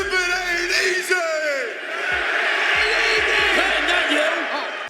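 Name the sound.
wrestling crowd repeating the Godfather's entrance lines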